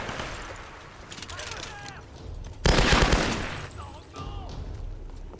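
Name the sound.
gunfire in Tomb Raider video game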